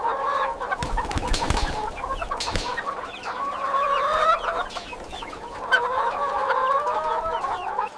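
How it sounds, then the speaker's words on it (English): Plymouth Rock chickens in a dimly lit egg-factory barn cluck and murmur continuously, a dense flock chorus of overlapping calls at close range with occasional louder squawks. "The Plymouth Rock chickens settle down to sleep."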